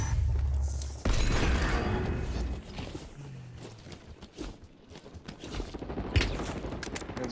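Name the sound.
gunfire from a shooter video game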